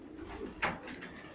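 Pigeons in a loft fitted with an automatic watering system of red drinking cups, with a single soft coo rising briefly against a low, steady background murmur.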